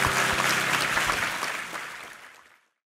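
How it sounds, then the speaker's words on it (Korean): A church congregation at a Sunday evangelism festival breaks into full, dense applause, many hands clapping together loudly before the sound tapers off and stops. "네, 우리 하나님께 감사와 영광의 박수 올려드리겠습니다."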